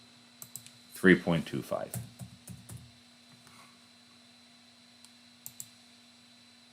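Fingers tap a computer keyboard in quick bursts of clicks, close and fairly clear, with a steady electrical hum underneath and a few stray taps afterward; a voice speaks briefly.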